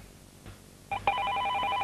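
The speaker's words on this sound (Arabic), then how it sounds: "طب تيجي نرد على التليفون اللي جاي ده" A telephone rings indoors, its electronic trilling tone starting after a quiet moment and repeating steadily and clearly at close range, with no talk over it.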